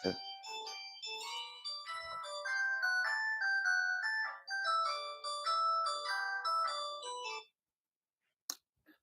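A melodic phone ringtone plays loud and steady for about seven seconds of rising and falling tones, then stops abruptly, followed by a brief faint click.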